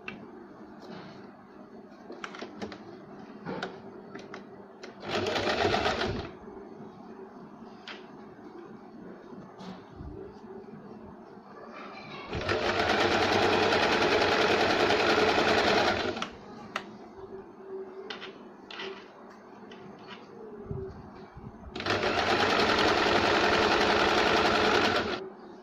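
A sewing machine stitches a blouse seam in three loud bursts, a brief one and then two runs of a few seconds each. Between them come quieter handling noises and rustling fabric.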